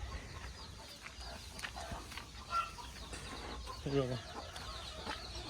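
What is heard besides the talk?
country hen clucking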